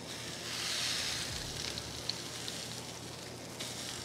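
Reverse-seared ribeye steaks sizzle steadily on a Ninja Woodfire grill just after being flipped, a close, even hiss with a few small pops and no talking.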